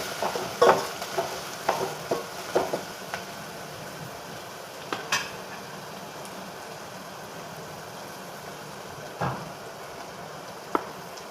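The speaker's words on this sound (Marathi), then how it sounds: "कांदा लाल उतरून भाजायचा" Chopped onion stirred and roasted in a pan for a traditional zunka, giving a steady low sizzle with scattered scraping clicks of a spoon, close and moderately quiet, with no voices.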